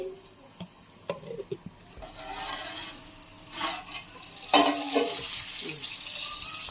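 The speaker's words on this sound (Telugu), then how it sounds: "దొండకాయ మగ్గింది ఇప్పుడు మంచిగా చూడండి బ్రౌన్ కలర్ అయింది" Ivy gourd frying in a pan with masala, browning as it cooks: a steady sizzle that swells louder midway, with stirring clatter and scrapes on the pan, no talking.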